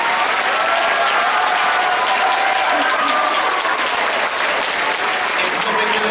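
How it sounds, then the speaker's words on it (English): Loud, sustained applause from a large concert audience honouring choral teachers, a dense continuous wash of clapping with steady intensity and no talking. "So let's give those choral teachers another round of applause"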